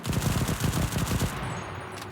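An FG42-1 automatic rifle firing full-auto in the World War II shooter Enlisted, a fast steady stream of shots for about a second and a half that then gives way to a faint tail.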